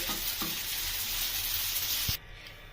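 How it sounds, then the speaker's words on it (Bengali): Pasta with egg stirred in a pan, a steady soft sizzling scrape running close and continuous for a couple of seconds before the sound drops away abruptly. "আমি ডিমের ঝুড়িটা দেওয়ার পরে 4-5 মিনিট একটু নাড়াচাড়া করছি।"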